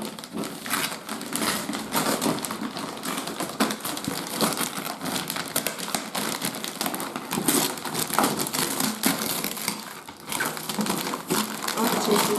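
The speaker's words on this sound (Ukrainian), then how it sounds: "Зараз будемо розпаковувати і дивитись" Secret Santa gift packaging of paper, plastic and tape crinkles and rustles continuously up close, a dense crackling stream of crumpling sounds with some voices in the background.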